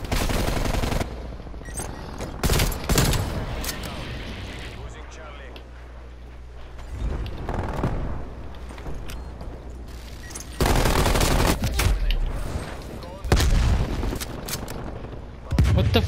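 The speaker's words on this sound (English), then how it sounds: "I've never heard a bullet make that kind of sound in this game" Bursts of video game gunfire erupt in loud broadband volleys, with heavy sustained blasts at the start, middle and end, separated by quieter stretches of ambient rumble and hum.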